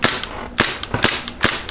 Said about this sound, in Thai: ดูฟีลลิ่งการยิงหน่อยสิ